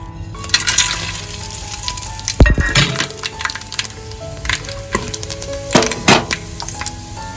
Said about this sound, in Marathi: टोपामध्ये ना तेल घालून घेतलेलं आहे तर इकडे ना हे सर्व अख्खा खडा मसाला याच्यामध्ये तेजपत्ता दालचिनी सर्व आहे ते घालून घेतोय फोडणीसाठी